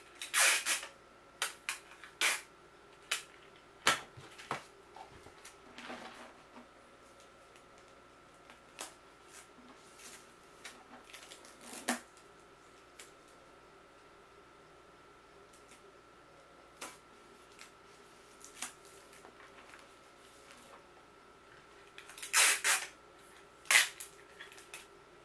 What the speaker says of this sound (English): I'm basically just going to take that and I'm going to tape it. I've got my tape here.